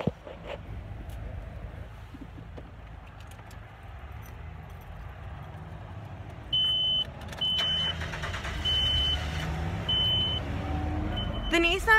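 A 2002 Nissan Frontier pickup engine starts and settles into a low, steady idle rumble, with intermittent chiming beeps from inside the cab partway through.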